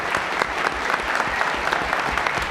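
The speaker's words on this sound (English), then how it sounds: "Let's give them another round of applause." Audience applause for the 650 Vanier Air Cadet Band at a 1993 Christmas charity show in Moncton, a steady dense clapping from a large crowd filling the hall throughout, with no talk over it.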